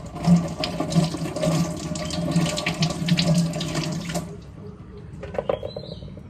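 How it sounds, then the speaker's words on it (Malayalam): Water pours in a steady stream for several seconds, splashing close by, then stops, leaving a few faint drips and clinks, while water is added for making puttu. "പുട്ടിന് ആദ്യം വെള്ളം പാർന്നിട്ട് കേട്ടോ"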